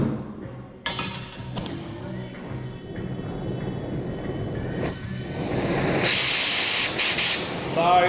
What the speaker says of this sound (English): So acetylene pressure's on 100, oxy's on 400, which is generally pretty standard for cutting.